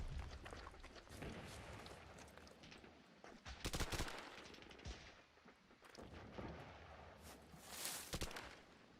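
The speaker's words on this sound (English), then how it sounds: "There's an enemy machine gun over here somewhere." Enemy machine gun fire in the WWII Online combat game, with loud bursts of rapid gunfire and sharp cracks repeating across the stretch, some shots near and others more distant.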